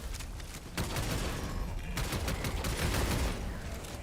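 Bursts of rapid gunfire from a weapon in Helldivers 2, rattling fusillades that start abruptly and continue through the clip with brief gaps, at moderate loudness.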